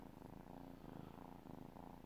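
A sleepy, content kitten purrs steadily and close up, a low continuous rumbling purr with a soft rhythmic pulse and no other sounds.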